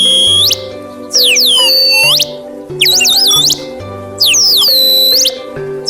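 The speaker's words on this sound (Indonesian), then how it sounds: "Suara kicauan burung serasa menyapa kepada manusia." Birds in a natural setting chirp in repeated bursts of high, sweeping whistles, about four phrases with short pauses, over a steady low tonal drone.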